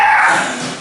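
A dog gives one short, sharp bark or yelp during a lecture. It is loud and close and rings out alone before fading.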